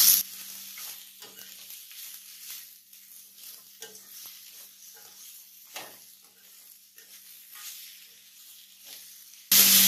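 Salted bitter gourd frying over medium flame in a pan, a soft continuous sizzle broken by repeated stirring scrapes and light spoon taps, close and fairly quiet, ending with a brief louder burst.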